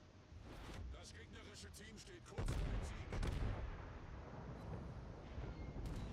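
Tirpitz battleship guns firing shells during a World of Warships ranked match, with a heavy booming salvo at about 2.4 s and more rumbling gunfire after it, heard over game noise and steady talk.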